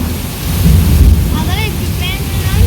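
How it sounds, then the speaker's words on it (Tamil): Strong wind gusts through swaying coconut trees, a dense low roar rumbling and buffeting the microphone steadily, while someone talks faintly in the background. "சும்மா காத்துக்கே மரமெல்லாம் ஆடுது"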